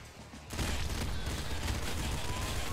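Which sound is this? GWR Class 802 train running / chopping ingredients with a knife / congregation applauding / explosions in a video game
explosions in a video game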